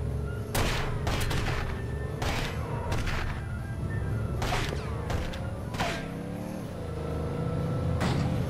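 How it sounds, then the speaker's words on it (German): Gunfire in the video game The Godfather rings out in repeated bursts and single shots over a steady engine rumble, with no talking. "hör doch auf zu ballern"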